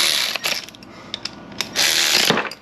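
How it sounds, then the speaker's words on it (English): Electric ratchet tightening a fitting during an ABS delete with line lock install, heard as close, loud bursts of whirring and ratcheting clicks, two longer runs separated by short taps, with no talking. "I'm going to use my handy dandy electric ratchet here for demonstration purposes"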